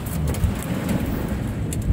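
Heavy rain mixed with small hail pours steadily with a dense, rumbling roar and scattered sharper patters, close and loud throughout.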